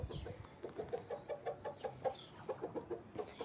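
Chickens and roosters clucking in a steady run of short, close calls while they are being fed, with a faint crow in the mix and no talking.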